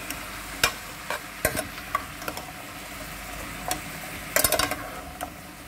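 Soy sauce being stirred into chicken BBQ rice in a pan: a steady low sizzle under scattered sharp scraping clicks of a spoon against the pan, with a quick cluster of scrapes near the end.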